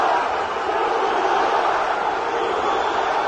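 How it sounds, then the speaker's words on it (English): Arena crowd at a UFC event roaring steadily for fighter Zubaira Tukhugov, a dense continuous wall of cheering and shouting that holds at full loudness throughout with no clear individual voices. "crowd getting behind him early in this one to the surprise of no one"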